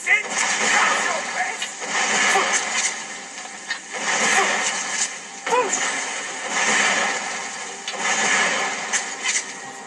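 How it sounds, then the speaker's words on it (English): Fireball spells are cast repeatedly in the Skyrim video game, giving rumbling, whooshing blasts that swell and fade in a steady rhythm about every two seconds, with a voice heard faintly alongside. "Fireballs."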